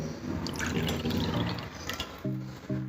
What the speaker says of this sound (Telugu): ఇప్పుడు ఇంకో కప్పు వాటర్ వేసుకొని గ్రైండ్ చేసుకుందామండి